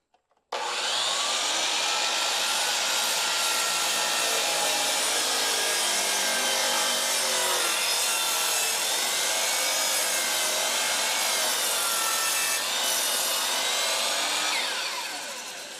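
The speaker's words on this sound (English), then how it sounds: "Even though this is the largest miter saw that DeWalt makes, it still won't cut through this 5x5" A large DeWalt miter saw spins up and cuts into a 5x5 timber for a timber frame shop, a loud, steady whine and grinding bite that holds for many seconds before the blade winds down.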